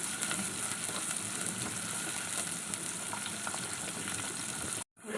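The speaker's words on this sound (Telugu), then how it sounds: "చిట్టపట ఆడిన తర్వాత ఉల్లిపాయ వేసేయాలండి అన్నీ వేపేసుకోవాలి" Onions frying in oil in a pan for an egg and brinjal curry, a continuous even sizzle close by, cutting off abruptly at the end.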